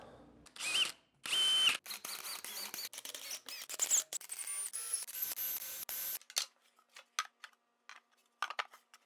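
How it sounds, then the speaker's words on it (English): A power drill whirs in repeated short bursts, starting and stopping as pilot holes are bored in a wooden rocking chair, close up with no talking. "Just gonna drill some pilot holes."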